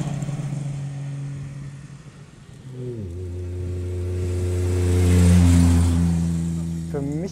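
A DKW Monza's 40-horsepower 903 cc three-cylinder two-stroke engine idles, then revs up and holds a rising, buzzing drone before easing off, fairly close; a voice speaks over the engine.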